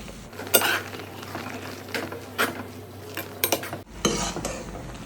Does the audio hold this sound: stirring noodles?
yes